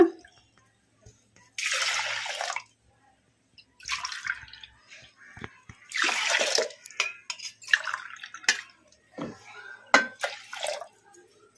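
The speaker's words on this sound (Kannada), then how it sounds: "ಎರಡೂವರೆ ಗ್ಲಾಸ್ ನೀರು ಹಾಕೋಣ" Water is poured from a glass in a few short bursts into a metal pressure cooker holding washed lentils, splashing and trickling between pours, with faint clinks and quiet movement around.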